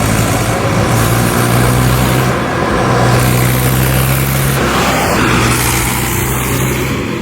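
An unloaded tractor with power steering drives along with its engine running. A steady, mid-pitched engine drone stays close and continuous throughout, and no one talks.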